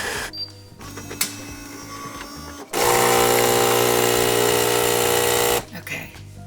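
A Philips 3300 automatic coffee machine grinds beans with a loud, steady whirring drone lasting about three seconds, set between quieter mechanical clicks and hums.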